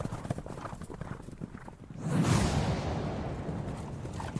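Rapid hoofbeats of galloping horses rush in after a rhythmic lead-in, joined by a whooshing surge, loud and driving with dramatic background sound.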